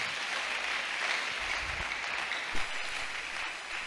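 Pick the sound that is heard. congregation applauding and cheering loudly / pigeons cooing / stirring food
congregation applauding and cheering loudly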